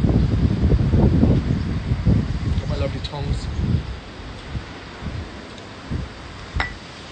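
Wind gusting outdoors, heavy low rumbling buffets against the microphone in the first few seconds that ease into quieter occasional puffs, with a person talking.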